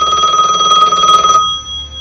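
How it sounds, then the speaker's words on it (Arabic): A telephone rings out after a number is dialed, a bright electronic bell trilling steadily for over a second and then cutting off, loud and close with no talk. "أخذ الهاتف وكون الرقم الذي أعطاه إياه الشرطي"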